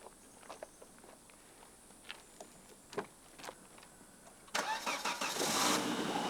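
Volvo S60R five-cylinder engine starting up after a misfire repair, preceded by a few faint clicks and footsteps, then catching and running loud and steady at close range.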